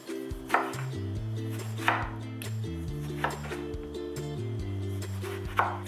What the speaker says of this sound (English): Then we're going to cut it into small little pieces, just like the mango.